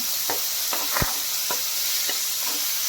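Green chillies and onions sizzle gently in a pan under a constant hiss, broken by about six rhythmic spatula scrapes over a few seconds.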